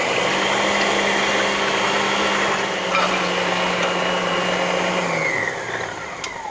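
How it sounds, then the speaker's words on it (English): An electric mixer whirs steadily while beating egg whites for an Italian cream cake, a loud, constant motor drone that dips in pitch and winds down toward the end. "go to the other mixer, and we're going to have to mix the egg whites so we can fold them into this mixture"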